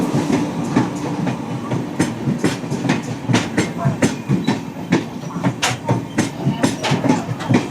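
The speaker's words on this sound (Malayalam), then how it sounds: "അങ്ങനെ മംഗളം എത്തി." The Mangala Express pulls into Chiplun station, its wheels beating a loud, steady clickety-clack over rail joints close by, with a busy rumble of carriages rolling past.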